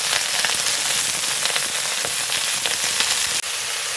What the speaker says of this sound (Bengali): তেল গরম হয়ে গেছে এই কাঁঠাল এবং আলু দুটোকেই আমি ভেজে নেব